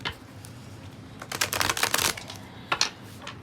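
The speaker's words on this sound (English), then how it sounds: "let's get these shuffled for you" Quick riffling bursts of tarot cards being shuffled, a dense flurry in the middle and a shorter burst near the end, close and fairly quiet.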